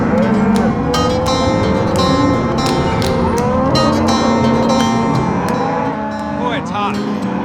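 Cattle on a hot, fly-plagued farm low repeatedly, overlapping moos from several cows close to the microphone, loud and continuous with a busy herd background.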